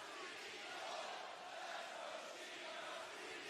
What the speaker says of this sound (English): And the crowd is fired up. Listen to them.